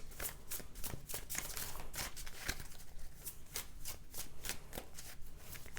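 Tarot cards are shuffled close up, a quick continuous run of crisp riffling flutters without a break.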